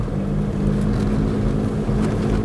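A car engine drones steadily as the car pushes through a snowstorm, with a low rumble and a constant hum that stay loud throughout, blended with wind noise and no talking.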